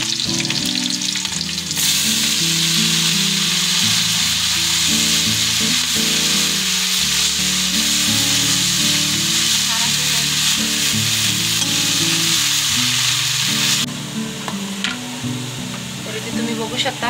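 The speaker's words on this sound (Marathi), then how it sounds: "त्यानंतर ह्याच्यामध्ये आपण आता भाजी टाकून घेऊया।" Fenugreek leaves drop into hot oil with chillies and set off a sudden loud, sustained sizzle of frying that fades down near the end, with muffled stirring throughout.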